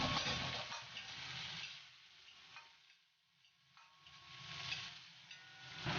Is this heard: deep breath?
no